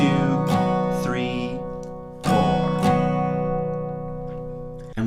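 Acoustic guitar strumming a song's rhythm slowly, a few widely spaced strokes ringing out close and clear with long sustain between them, while a voice counts along.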